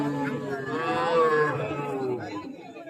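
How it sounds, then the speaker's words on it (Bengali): Young calves at a rural cattle market in Dinajpur low in a drawn-out moo amid crowd chatter and someone talking nearby. "দেখেন প্রচুর পরিমাণে বাসুর পাওয়া যায় এই হাটে ছোট ছোট বাছুর"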